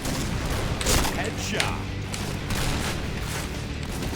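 A one-of-a-kind sniper rifle with a thunder-strike sound fires in the shooter game Point Blank, giving a couple of sharp, booming cracks within dense, noisy gameplay while a voice talks.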